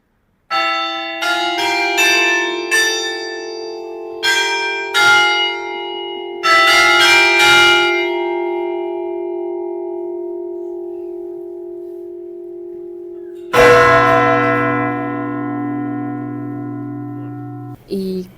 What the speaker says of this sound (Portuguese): se vocês estiverem aqui enquanto o sino toca, vocês vão ficar surdos. De tão alto que é o barulho